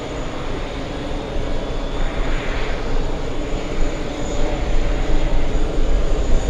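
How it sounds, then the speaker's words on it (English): A jet airliner taking off at JFK Airport, its engines a loud, steady broadband roar that builds slightly over several seconds, heard alone. "Oh, it's the takeoff."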